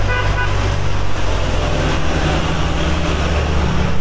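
Heavy coal trucks pass close on a roadside in a continuous loud, low rumble of engines and tyres, swelling slightly and then easing, with no voices.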